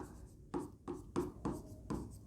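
Writing on a board during a chemistry lesson, heard as six evenly spaced scratchy strokes in a steady rhythm, close and fairly quiet in a still room, with no talking.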